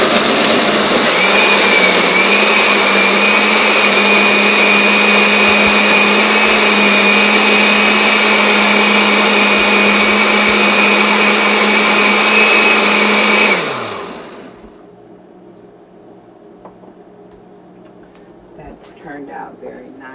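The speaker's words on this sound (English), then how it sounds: "So now, as I need to plug up the blender." A countertop blender whirs loudly and steadily while making a smoothie, a constant high motor drone that holds for several seconds and then winds down and stops, leaving quiet room tone.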